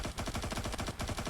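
Rapid bursts of automatic gunfire from the video game IGI 2, a dense, loud, steady rattle of shots with no pauses across the short stretch.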